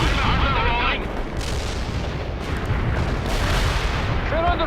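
Artillery blasts and gunfire in the real-time strategy video game World in Conflict, a continuous loud barrage of booms and rattling shots with faint radio-style voices briefly over the din.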